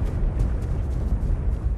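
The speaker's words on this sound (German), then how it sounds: "Dort hinten ist ein Vulkan explodiert." A volcano erupting in Fortnite's Floor is Lava mode, a dense low rumbling roar that holds steady and loud throughout the short span with no speech.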